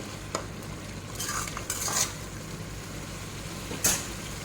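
Ingredients for mutton rice stirred and fried in a pan, with a spoon scraping and clinking in a few bursts over a quiet background sizzle.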